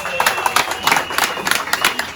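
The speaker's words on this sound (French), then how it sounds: "Alors, on applaudit pour son excellence," An audience applauds the Minister of Mines at a women's gathering in Nganda Yala, with dense, uneven clapping running steadily throughout at a fairly close, moderate level.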